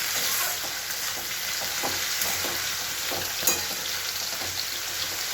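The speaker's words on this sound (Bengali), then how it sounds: "গ্যাসে বসিয়ে একটু নেড়ে নেবো" Poppy seed paste mixed with green chillies and fish-curry spices stirred in a pan over a gas stove: steady soft sizzle with occasional scraping strokes of the spoon, close and continuous, no voices.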